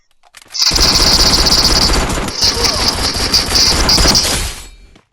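Rapid automatic gunfire in a video game, loud and close, rattles in long sustained bursts for about four seconds with brief gaps before cutting off abruptly.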